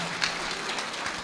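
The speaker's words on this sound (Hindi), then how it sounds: "तालियां बजाइए बच्चे के लिए" An audience applauds a child's painting with a brief, moderately loud burst of clapping from a crowd.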